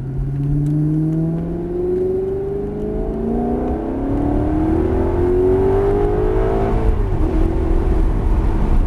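A Maserati GranTurismo S accelerating on a road, heard from inside the car as a loud, continuous engine drone rising in pitch through the gears, with a brief drop at a shift before climbing again.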